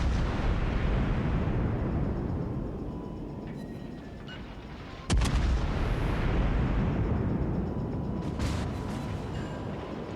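World of Warships naval battle: a player's Des Moines cruiser trades heavy gunfire with a Yamato battleship, with a continuous low rumbling roar and one sharp, loud cannon blast midway, followed by fainter distant booms.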